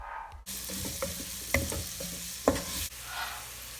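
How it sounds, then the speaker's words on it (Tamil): Chopped onion sautés in a pan for a mixed vegetable kulambu, with a soft steady sizzle broken by a few sharp clinks and scrapes of a spoon stirring against the pan. "கட் பண்ணி வச்சுருக்கிற ஒரு ஆனியன் போட்டு நல்லா வதக்கிடலாம்."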